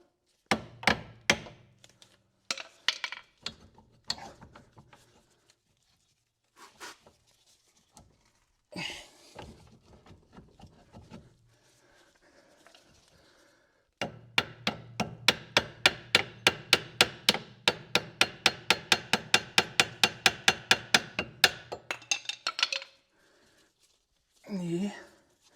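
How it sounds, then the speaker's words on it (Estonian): During maintenance work on a Volvo 740 car, a hammer taps in sharp, quiet strikes, first in scattered knocks and then in a long, fast, steady run of blows, with faint murmured speech between. "Haamriga paar tutsu."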